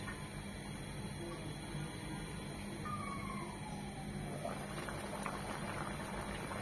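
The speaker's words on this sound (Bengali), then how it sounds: "এখন এটা মিনিমাম চিকেনটা সিদ্ধ হবে 15 থেকে 20 মিনিট" A pot of chicken simmers on the stove with a low, steady bubbling and hiss that runs evenly throughout, plus a faint squeak partway through.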